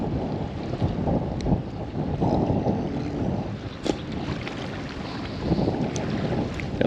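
Wind gusting across a quarry at night while fishing, a steady rushing roar buffeting the microphone with a few brief knocks and no speech.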